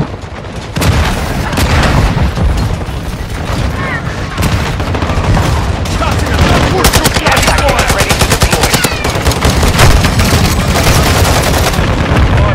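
Sustained automatic gunfire in a Call of Duty: Modern Warfare II team deathmatch, loud and close, with rapid bursts, rattling machine-gun runs and booming impacts layered over battlefield din.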